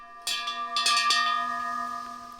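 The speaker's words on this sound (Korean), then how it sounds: "시작을 알리는 종소리에 맞춰 막내팀부터 출동을 하는데요" Hand bell struck several times to signal the start of a village cooking contest in Korea, bright metallic rings in quick succession, then a long fading hum with no talk.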